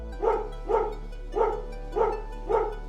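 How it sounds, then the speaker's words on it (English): A dog barks five times in a steady rhythm, each bark a short, deep, fairly close woof, over a faint constant low hum. "have a look at this dog"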